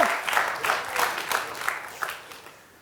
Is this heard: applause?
yes